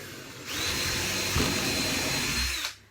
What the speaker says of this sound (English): put the drill in high speed when you're doing timber